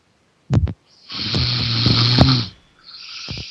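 A person snoring nearby: a short snort, then a long rasping inhale with a droning buzz, followed by another softer snore.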